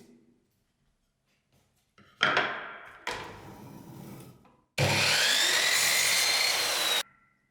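A power saw cuts through an MDF baseboard laid painted side down on the saw table, with short bursts of blade whine and rasping wood contact, then a loud sustained cut lasting about two seconds, close and alone.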